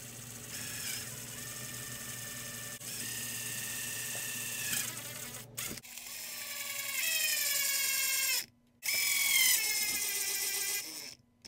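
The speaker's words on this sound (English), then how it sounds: "I'm going to drill these in a little bit deeper and use some longer screws." A power drill drives longer screws deeper into the axle tube of a radio-controlled truck, giving several bursts of whirring motor that rise in pitch and are separated by short pauses, with no talking.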